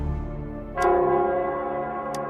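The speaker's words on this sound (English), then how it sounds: "it's the Nell Squares bell." In the video game Wuthering Waves, the large town bell in Nell Square strikes once, loud and resonant, with a long ringing hum that slowly fades. A faint tick sounds in the background.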